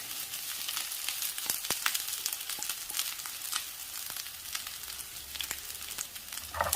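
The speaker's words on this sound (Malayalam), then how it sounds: "ഈ തേങ്ങ ചുവക്കെ വറുത്തെടുക്കണം." Grated coconut fries in a pan with garlic and shallots over a medium flame, giving a continuous close crackling sizzle dotted with sharp pops and occasional stirring scrapes.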